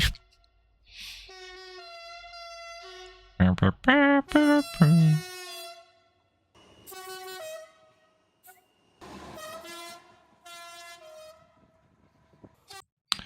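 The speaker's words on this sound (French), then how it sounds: "cette compilation de meilleurs klaxons de train" A series of loud, sustained train horns, some single long blasts and some in overlapping chords, sounding close with short gaps between them.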